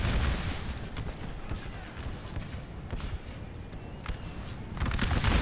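Infantry volleys in an American Civil War mod of Napoleon Total War at Gettysburg's Little Round Top, a dense continuous crackle of massed musket fire with heavy low rumble and scattered sharper reports.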